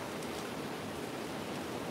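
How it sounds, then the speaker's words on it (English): Heavy rain pouring down over a garden, a dense, even steady hiss with no pauses, no speech and no other sound standing out. "Oh my God, it's raining hard."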